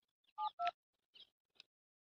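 A mobile phone gives off a handful of short electronic dialing tones, two stronger beeps followed by two fainter ones, sounding close and isolated against quiet.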